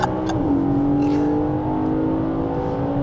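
Audi RS car engine revving close by, its pitch climbing quickly in the first half second and then holding as a loud, steady drone.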